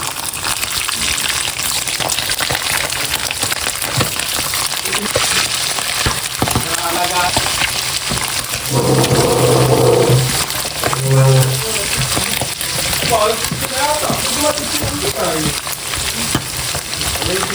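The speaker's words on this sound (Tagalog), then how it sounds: "Ito po nga tayo balunan na akin pong ipiprito. Lalagay ko na po dito sa kawali." Chicken gizzards frying in a pan of hot oil, giving a loud, dense, continuous sizzle and crackle throughout, with people talking over it in the middle and later stretches.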